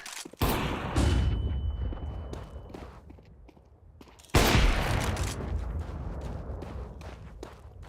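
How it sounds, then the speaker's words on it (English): A flashbang grenade going off in a Counter-Strike 2 match, heard as sharp bursts near the start and a second loud blast midway, each with a noisy hissing tail, amid gunfire-like game sounds. "I'm throwing a flashbang."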